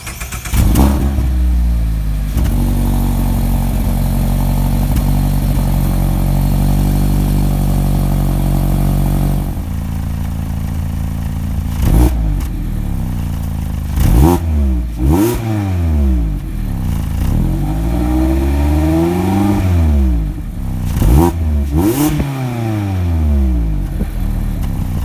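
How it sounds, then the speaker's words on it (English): A 2018 Mazda MX-5 Miata Club engine idles with a deep steady exhaust burble, then revs repeatedly, climbing and dropping in sharp loud sweeps, close up and alone. "take a listen to that exhaust note"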